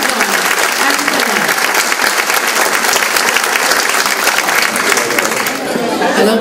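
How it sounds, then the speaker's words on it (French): A banquet hall of volunteers at a 2013 tribute evening for a volunteer action centre breaks into loud, sustained applause, the dense clapping continuing for several seconds with crowd chatter mixed in. "Et on s'applaudit avant de commencer pour dire que oui, nous sommes de vrais bénévoles."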